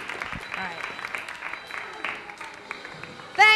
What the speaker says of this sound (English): Come on, let's hear a big hand